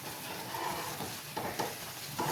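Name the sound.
stirring ragi flour while it cooks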